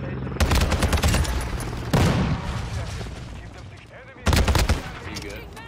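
Fennec submachine gun fire in Modern Warfare 2: loud, dense full-auto bursts in three separate strings, each a rapid rattle of shots with game ambience between and people talking faintly.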